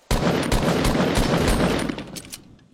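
Loud gunfire in the video game Fortnite: a sharp burst of rapid shots that holds dense for about two seconds, then thins out into a few scattered trailing reports.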